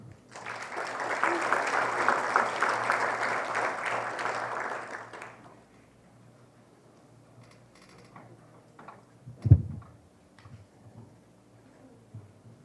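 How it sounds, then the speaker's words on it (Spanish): Audience applause welcoming a lecturer to the stage at a constitutional reform conference, a dense, loud wash of clapping for about five seconds that then stops abruptly, followed by quiet room noise and a single thump. "A quien recibimos con un fuerte aplauso."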